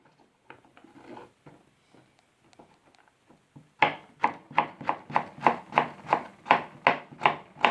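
A knife cuts carrots into julienne strips on a board, a few soft scattered cuts first, then a steady run of about a dozen crisp, evenly spaced chops close up, with no talk.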